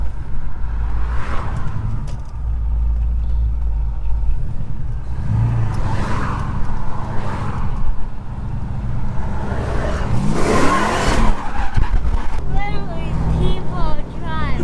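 A supercharged G-body car engine idles lean on corn fuel, a steady loud rumble with roughness throughout, people talking over it near the end.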